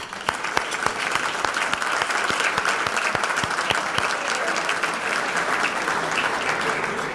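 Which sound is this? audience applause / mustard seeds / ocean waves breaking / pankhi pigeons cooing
audience applause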